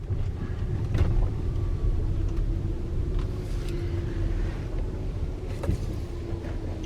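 A Tesla Ruby drives along, giving a steady low road rumble and tire noise with faint wind, plus a few soft knocks and creaks inside the cabin, no speech.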